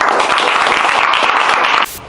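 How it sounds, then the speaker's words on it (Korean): A lecture audience claps loudly and densely to welcome a speaker for a talk on judicial and prosecution reform. The close, vigorous applause stops abruptly just before the end. "박수로 맞아주시기 바랍니다"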